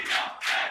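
A live esports crowd roars and cheers at an ICARUS 2023 Super Smash Bros. tournament match, two loud swelling waves of massed voices filling the hall with no speech over them.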